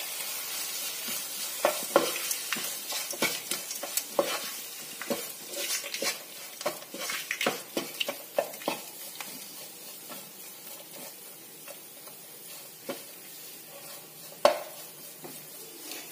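Curry leaf mixture with turmeric and salt frying in a pan: a steady sizzle with repeated scraping and stirring knocks, close and fairly quiet, with a sharper clink near the end.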